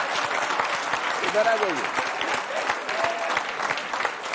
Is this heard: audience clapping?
yes